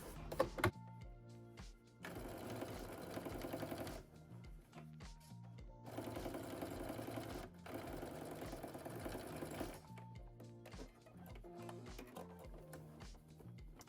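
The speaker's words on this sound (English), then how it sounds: "we're going to edge stitch each side seam down." Sewing machine edge stitching the flat-felled side seams of a denim jacket: several sustained bursts of fast mechanical stitching, separated by short pauses filled with light clicks and handling, close and steady with no talking.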